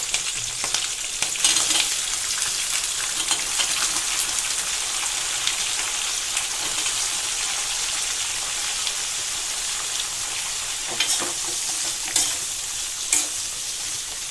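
Sliced onions frying in hot oil with cinnamon for kadala curry, a loud continuous sizzle close by with occasional stirring scrapes, no voices.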